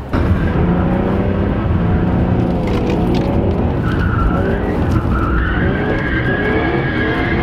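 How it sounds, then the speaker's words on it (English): Car drifting with tires skidding and smoking, a loud continuous roar of engine and rubber scrubbing on pavement, the squeal rising and falling without pause, close by and without talk. "It's smoking the tires pretty good."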